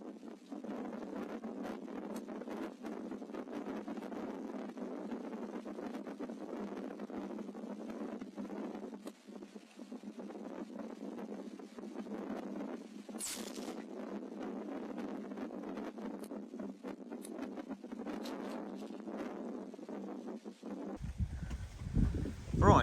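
Breezy evening wind rumbling steadily into an outdoor microphone, low and continuous for a long stretch, ending with a burst of louder handling noise.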